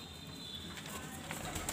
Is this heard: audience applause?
no